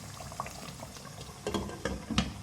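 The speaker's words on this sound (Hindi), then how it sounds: "इसको हल्की आंच पे रख रही हूँ मैं 5 मिनट के लिए दम पे" Chicken korma, covered and left on low heat to simmer, gives a soft steady bubbling hiss with scattered faint pops and small splutters, heard close and alone.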